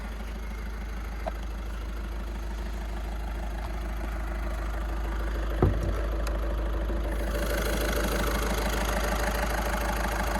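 A used car's engine idles steadily for the whole stretch, a smooth, even, low hum with no extra noises and one brief knock midway, with no talking.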